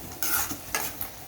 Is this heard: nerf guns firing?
no